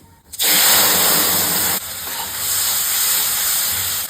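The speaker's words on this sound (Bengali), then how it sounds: "দিয়ে দিচ্ছি তেজপাতা, গোটা জিরা, গুলে রাখা মশলাটা ছেড়ে দিচ্ছি।" A spice paste hits hot oil in a pan already holding bay leaf and whole cumin, and it sizzles loudly. A sudden burst of hissing settles into a steady, close crackle that keeps going.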